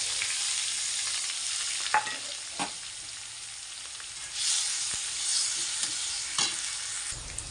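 Chopped onion frying in a hot pan with curry leaves: a steady broadband sizzle runs throughout, punctuated by a few sharp scrapes and taps of a spoon stirring, with no voices.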